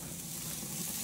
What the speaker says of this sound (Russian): На мангале жарят.